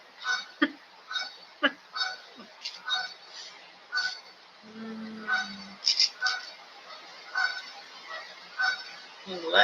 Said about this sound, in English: Checking geese.